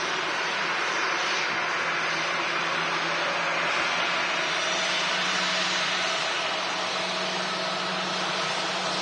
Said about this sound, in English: Ryanair 737-800 from Carcassonne in France